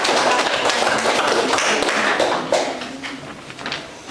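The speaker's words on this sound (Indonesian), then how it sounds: "berikan aplaus kepada teman yang bertanggung jawab" Classroom applause for a classmate, a dense, steady patter of many hands clapping at once that holds strong for about two and a half seconds before thinning and tapering off.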